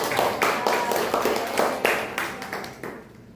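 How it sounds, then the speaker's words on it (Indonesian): A classroom of students claps together in a brisk, uneven round of applause, fairly close and lively, tapering off toward the end. "Minasan beri tepuk tangan juga untuk"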